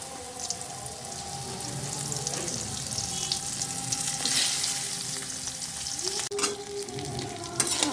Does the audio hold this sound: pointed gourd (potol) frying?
yes